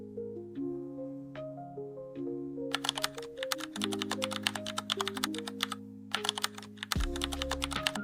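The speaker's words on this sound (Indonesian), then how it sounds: "Saya mengetik perintah" Commands being typed on a computer keyboard during a web defacement simulation: bursts of quick, close key clicks arrive in rapid runs with short pauses between them, over steady background music.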